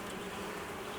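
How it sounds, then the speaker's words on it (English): Honey bees buzzing at an open hive during an inspection, a dense, steady drone of many wings heard up close with no break. "There's a lot of bees in here."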